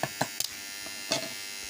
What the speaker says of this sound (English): we're trying to test our welding machine